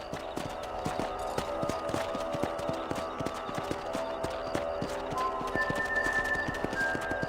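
Horse hooves gallop in the Red Dead Redemption video game, a steady rapid clip-clop running throughout at close range, with a brief whinny and faint tonal game sounds layered over the hoofbeats.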